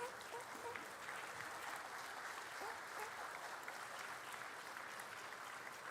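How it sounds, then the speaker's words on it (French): At a food systems summit opening ceremony, a large audience applauds the introduced presidents, a dense, sustained wash of clapping that stays steady and moderately distant throughout. "Sous vos applaudissements, s'il vous plaît."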